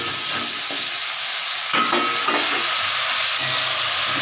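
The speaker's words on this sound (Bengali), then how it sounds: "এবার আমি ফুলকপি আলুটা একটু ভেজে নিচ্ছি।" Cauliflower and potato pieces frying in hot oil with turmeric, a continuous loud sizzle and hiss up close, broken by a few utensil stirs and scrapes against the pan, with no talk.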